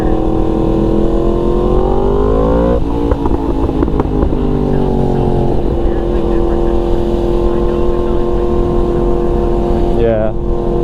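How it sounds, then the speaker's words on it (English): Yamaha MT-10, MT-09 and MT-07 motorcycles with crossplane engines riding together, a loud continuous engine drone with revs rising and easing, heard from the rider's position with wind noise and voices over a helmet mic. "We got the triad of CP engines over here."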